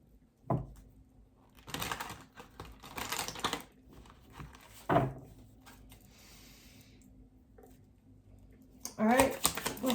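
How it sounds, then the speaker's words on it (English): Tarot cards are shuffled by hand in several short, papery bursts, fairly close and moderately loud, with a voice talking between them. "Actually, I'm going to shuffle one more time."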